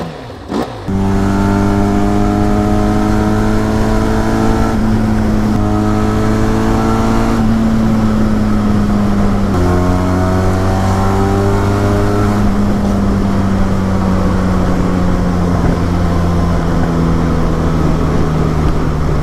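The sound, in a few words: Benelli TRK 502 motorcycle exhaust note revving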